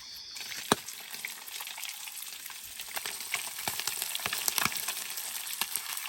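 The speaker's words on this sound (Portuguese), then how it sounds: "Peixe fritando aí já, pessoal." Fish sizzles and crackles in a hot frying pan, a steady close-up hiss with frequent sharp pops and spits and no talking.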